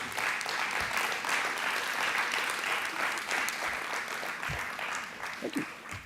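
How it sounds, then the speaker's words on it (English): An audience at an internet governance workshop applauds a panel, a steady, dense round of clapping that holds at an even level for several seconds before tapering slightly at the end. "Let's have a big round of applause for our panel."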